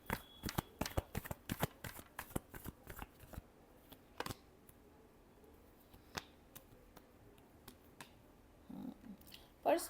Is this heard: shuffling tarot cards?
yes